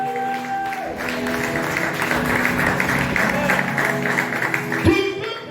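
Church congregation applauding and cheering to acclaim the Lord, a dense, sustained wash of clapping and crowd noise over sustained musical tones, swelling steadily before a sharp accent near the end.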